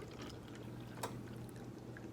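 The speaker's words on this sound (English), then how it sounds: "Now I'm going to pour some hot water" Hot water is poured into a cup for a science lesson, producing a faint, steady trickling pour with a brief splash partway through and no talk.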